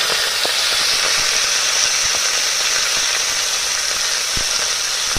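Ghatkol leaves sizzle in hot oil with garlic, black cumin and red chillies, a steady loud frying hiss running throughout with a few faint clicks, no voices.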